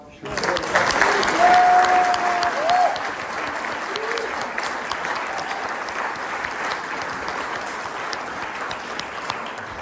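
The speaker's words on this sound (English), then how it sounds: "Can we get a round of applause?" Sustained applause from a large audience, loud and steady throughout, with scattered cheers and a brief whistle over the clapping.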